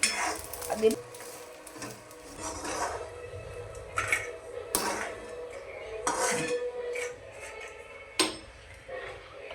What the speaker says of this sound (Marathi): आणि थोडेसे बोंबील फ्राय करून घ्यायचे